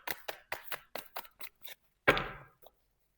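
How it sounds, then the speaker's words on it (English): Tarot cards are shuffled in a quick run of crisp riffling snaps, ending with a louder rustling burst, close and clear. "One more shuffle."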